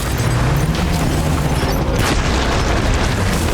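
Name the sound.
hematic grenade explosion in Death Stranding video game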